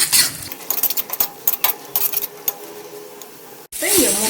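Egg fried rice gets stirred in a pan, a burst of rapid metallic clinks and scrapes of a spatula against the metal, then a quieter stretch ending in a louder sizzling rush.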